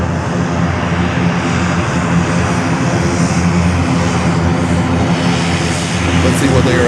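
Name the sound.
Bahamasair ATR 42 turboprop airplane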